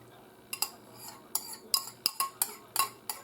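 A spoon scooping butter into cornbread mix, a series of light clinks and scrapes against the bowl in an uneven rhythm, close and fairly quiet.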